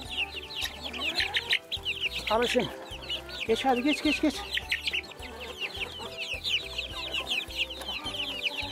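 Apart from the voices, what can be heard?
chickens clucking in a coop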